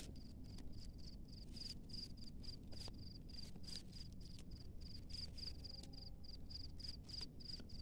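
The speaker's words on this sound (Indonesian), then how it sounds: "ternyata ini jangkrik Melondon ya" Melondon crickets chirp steadily in a rapid, evenly pulsed rhythm, a continuous close insect trill over a faint rustling background with no voices.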